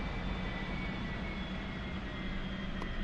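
An A-4E jet engine spools up in a DCS World flight simulation, giving a steady, loud roar with a constant whine laid over a broad rumble. No voices are heard over it.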